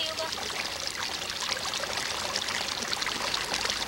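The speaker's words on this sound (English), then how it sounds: "at Mai Wui, we find the bubbling hot springs of a sacred communal pool" Bubbling hot springs feeding a sacred communal pool at Mai Wui, Eritrea, a steady close wash of gurgling, trickling water without a pause.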